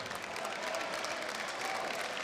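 A crowd applauding a player leaving the floor at a high school basketball game in a gym, steady clapping heard at a distance.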